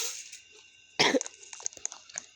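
A single sharp cough bursts out close by, followed by a few smaller throaty sounds and clicks in an otherwise quiet room.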